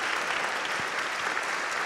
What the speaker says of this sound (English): How about a round of applause for the Congressman?